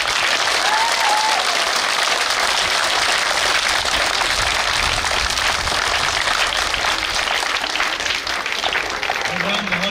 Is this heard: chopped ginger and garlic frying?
no